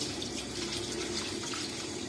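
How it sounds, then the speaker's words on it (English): Tap water runs steadily into a container as uncooked rice is rinsed for a steamer, a loud continuous splashing rush with no pauses. "Then I need to wash the rice."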